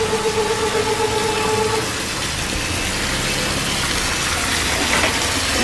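Dirty water carrying granite sludge from a stone polishing area gushes steadily into a drain, a loud continuous wash with machinery humming underneath.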